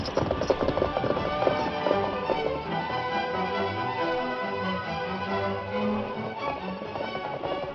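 The horse Silver galloping, a rapid, steady clip-clop of hooves close by, with a rumbling background and a faint voice.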